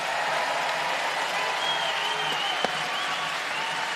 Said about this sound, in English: The crowd roars in approval.